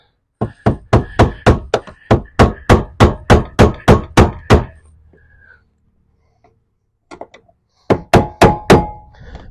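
Hammer blows on a flathead screwdriver to loosen the fuel pump lock ring of a 2011 Chevrolet Traverse: a rapid run of about fifteen sharp metallic strikes, a pause, then a few light taps and another burst of six hits.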